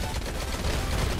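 Rapid machine gun fire in the mobile shooter Modern Combat 5, a dense continuous rattle of loud shots running through the whole moment without a break.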